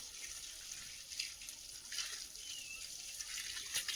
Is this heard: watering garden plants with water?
yes